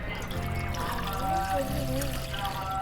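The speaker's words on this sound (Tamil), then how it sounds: "அதுக்கு நம்ம தண்ணி ஊற்றுறோம்." About a litre of water poured into a cooking pot for a roadside-style mushroom masala gravy, a close, steady gurgling pour with no one talking.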